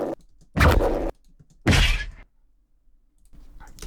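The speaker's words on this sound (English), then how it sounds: "let's try and layer these together and see if we get some kind of an explosion" Layered sound effects stacked into an explosion: two loud, broadband bursts about a second apart, each a dense thumping blast with a crackling tail, followed by quieter low rumble.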